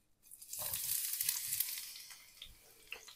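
Chopped onion hits a preheated frying pan with a loud burst of sizzling that settles into a steady crackle, with a few soft clinks of handling, and no voices.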